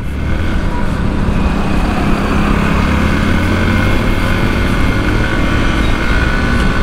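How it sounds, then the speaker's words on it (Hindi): A motorcycle is ridden and recorded with a Rode mic on a GoPro Hero 9, giving a loud, steady engine drone mixed with wind rush that continues without a break, close to the microphone and with no talk. "मैं थोड़ा अपने हिसाब से चलाता हूँ बाइक"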